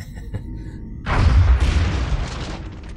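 A single heavy gunshot booms out in the XCOM: Enemy Unknown strategy game, a sudden low blast that rolls and decays over about two seconds after a quiet lead-in.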